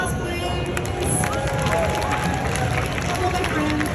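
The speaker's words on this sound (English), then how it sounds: "Round of applause, please." Convention crowd at a Helluva Boss panel at LA Comic Con giving a steady round of applause and cheering, dense and loud throughout, with crowd chatter mixed in.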